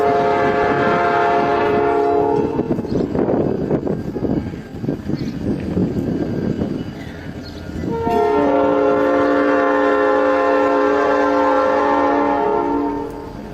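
A train horn blares in long, loud harmonic blasts while the train rumbles past, clattering wheels filling the gap before the horn sounds again.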